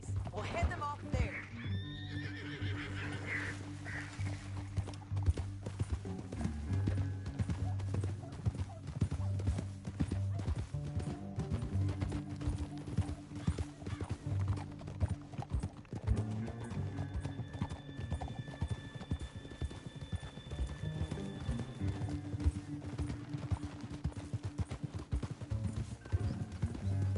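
Red Dead Redemption 2 game audio: hooves clip-clop steadily at a gallop with occasional horse whinnies, loud and continuous, mixed with voices talking over the commotion.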